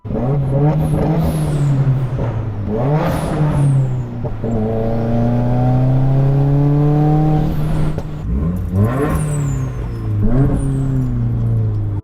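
A turbocharged 2015 Subaru WRX fitted with a Greddy Type S blow-off valve revs and shifts, engine tone rising and falling loudly up close with repeated whooshing venting bursts between pulls.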